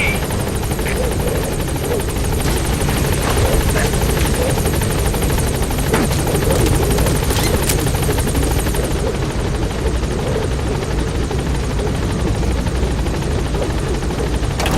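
The Pequod helicopter hovering at the landing zone in Metal Gear Solid V, a loud, continuous rotor thrum and engine whine that holds steady throughout, with no speech.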